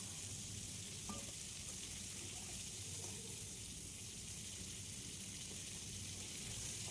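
Cauliflower florets frying in hot oil in a wok give a steady, close, unbroken sizzle with faint clinks from stirring. No one speaks.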